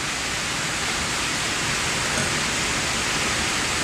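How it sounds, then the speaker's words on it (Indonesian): Steady rain during wet weather, heard as a dense, even hiss that stays constant and fairly loud for the whole stretch, with no voices. "Kondisi cuaca hujan."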